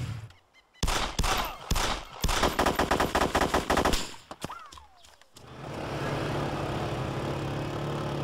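Video game gunfire in DayZ: rapid bursts of automatic shots and single cracks, loud and close, with short pauses, then a steady engine-like drone takes over.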